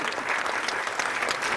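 Audience applause at a film audio launch event for Puthiyathor Ulagam Seivom, a steady dense clapping from a crowd throughout, moderately loud with no talking.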